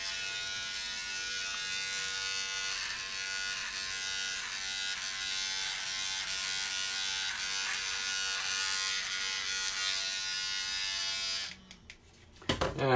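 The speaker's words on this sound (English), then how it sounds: "it's definitely a good trimmer" Mowbie rechargeable beard trimmer buzzing steadily and close up while cutting head hair, a continuous electric whine lasting about eleven seconds before stopping abruptly, followed by brief handling noise.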